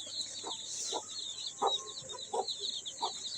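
Hen with her young chicks clucking close by, a series of soft rhythmic clucks over a steady background of insect-like high hiss and peeping, no talk.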